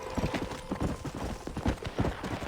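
A horse's hooves clip-clop in Red Dead Redemption, a steady trotting rhythm of crisp, close hoofbeats repeating evenly across the whole stretch, with no voices over them.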